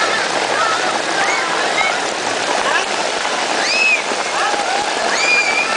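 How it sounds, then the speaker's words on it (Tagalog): Heavy rain pours in an unbroken loud hiss, with occasional faint bird chirps coming through the steady downpour. "lakas na ulan"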